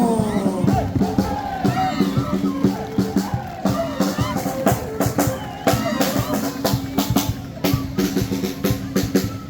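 Audience at a Puno folk dance performance during Pukllay 2025 applauds and cheers, with dense clapping, shouts and whoops sustained throughout, crowd voices mixed in.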